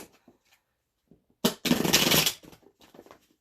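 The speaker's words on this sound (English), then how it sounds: "Let me shuffle a couple times." A deck of tarot cards is riffle-shuffled in one loud, dense burst of rapid flicking lasting under a second, preceded and followed by soft taps and handling noises close up.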